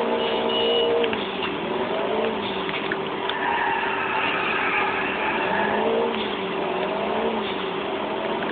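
A car engine in GTA 4 drones steadily while driving, its pitch rising and falling gently with throttle over a constant mid-level hum, with no voices.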